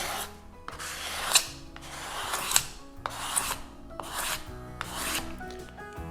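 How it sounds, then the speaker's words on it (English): Glue is scraped off an electric guitar body with a hand scraper: repeated raspy strokes about once a second, close and moderately loud, with shop machinery humming underneath and no voices. "I'll just hit it with my scraper here."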